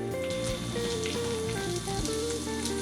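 A half shallot sizzles steadily in a pan for vegan kimchi fried rice, a constant close frying hiss under faint background music with no talking.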